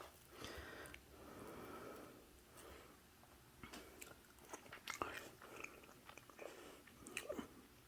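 Someone chews pancakes topped with syrup and margarine, soft close-up mouth sounds and small crunchy bites repeating irregularly in a quiet room, with a sniff or two and no talking.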